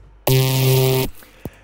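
A single loud, gritty synth note lasting under a second, heavily saturated and squashed by compression, OTT and an auto filter, cut off abruptly with a short thump after.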